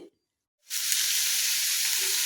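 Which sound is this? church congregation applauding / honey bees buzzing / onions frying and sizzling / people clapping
onions frying and sizzling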